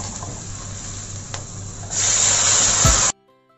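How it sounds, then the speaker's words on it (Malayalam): Palak spinach paste hits a hot pan: a low background hiss jumps to a loud, steady sizzle partway through, then cuts off abruptly into near silence. "ഇനി നമുക്ക് അതിലോട്ട് നമ്മൾ നേരത്തെ പേസ്റ്റ് ചെയ്ത് വെച്ച പാലക് പേസ്റ്റും കൂടി ഇട്ട് കൊടുക്കാം."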